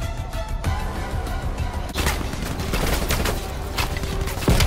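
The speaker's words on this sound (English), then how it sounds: "They still shooting at us, bro?" Enemy gunfire rattles in Call of Duty: Cold War, loud bursts of automatic fire crackling in rapid overlapping shots that grow denser partway through.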